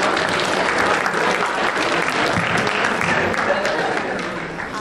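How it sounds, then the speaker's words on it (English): An audience at a school Poetry Out Loud recitation event claps together in steady, dense applause that holds for several seconds before easing off slightly at the end. "So can you give yourselves a round of applause before we start?"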